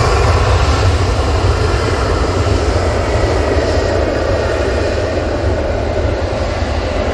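An Air Transat A321neo arrives at Manchester Airport, a loud, continuous low roar of jet engines that holds steady and full throughout, with no voices over it.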